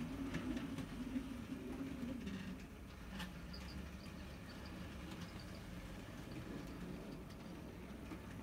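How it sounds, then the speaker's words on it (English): Local goods train on a model railway rolling through a layout past a war camp, a faint steady rumbling clatter of small wheels on track, continuous and fairly distant. "You can see the local goods train going through and past the war camp."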